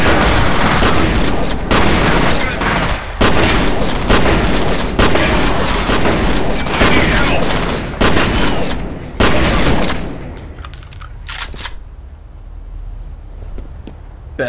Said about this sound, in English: Shotguns. Enough said.